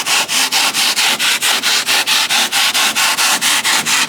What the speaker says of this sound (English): So we got the file and we're starting to carve back some of the foam.